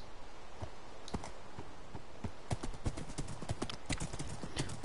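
Horse hooves clip-clop in a steady walking rhythm in Minecraft, growing louder and denser toward the end, with a faint whinny and light game ambience underneath.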